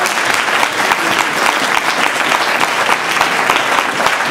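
A church congregation applauding to acclaim the Lord, dense sustained clapping from many hands, loud and close, steady for several seconds with no break.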